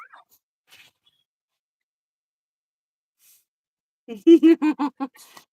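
A small pet dog whimpers indoors, a quick run of four or five high, whiny cries close to the microphone near the end after a long near-silent stretch.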